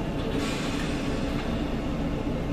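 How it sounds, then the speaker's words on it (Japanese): A steady rumbling train sound with a low mechanical drone, a Sendai City Subway Namboku Line train arriving at Izumi-Chuo station, continuous and fairly close, with Japanese arrival announcements. "この電車は2番線に到着いたします。"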